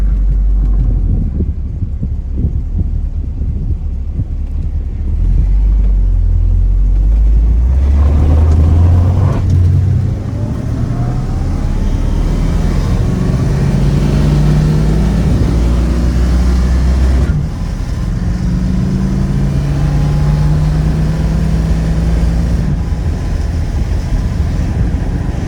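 A 1972 Plymouth Cuda with a 340 V8 drives down a highway, its engine droning loud and close from inside the cabin, with rising and falling tones as it pulls through the gears amid steady road rumble.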